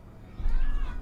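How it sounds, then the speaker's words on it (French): A house cat meows indoors, a single fairly close call rising over a low background hum, with no talk over it. "Oh, il y a mon chat qui miaule."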